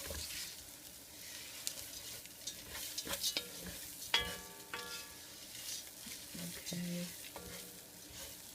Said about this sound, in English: stir to coat the lentils with all of this goodness